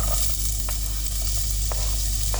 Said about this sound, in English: I'm going to fry off the onions and the garlic